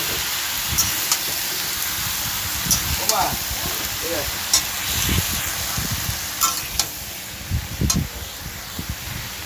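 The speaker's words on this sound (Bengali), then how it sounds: "ওই টমেটো শুদ্ধ পুঁই শাক কুমড়ো আলু তেলের মধ্যে দিয়ে দিয়েছি দিয়ে আমি ভালো করে নাড়াচাড়া করে দেবো" Malabar spinach, pumpkin, potato and tomato sizzle in oil while being stirred, a soft crackling hiss under repeated scraping and clattering strokes of a spatula, close, with a voice speaking at times.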